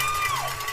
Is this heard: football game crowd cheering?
yes